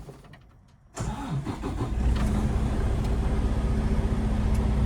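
A truck tractor, in neutral with brakes set and clutch pushed in, cranks briefly after a second of near silence, then catches and settles into a loud, steady running rumble with no voices.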